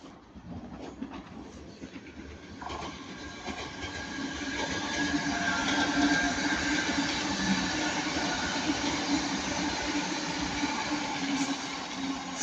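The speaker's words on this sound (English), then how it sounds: "390 ZR42 going to Manchester Piccadilly." A Class 390 passenger train passes at Ardwick on its way to Manchester Piccadilly, a steady, rising rumble of wheels and rolling stock with faint clatter, moderately near and without talk.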